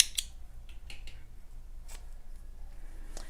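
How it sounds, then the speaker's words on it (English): Scissors snip through crochet yarn at the end of a daisy flower top motif, a few quick, crisp close cuts spread over a few seconds with quiet pauses between, no voice. "and cut your yarn."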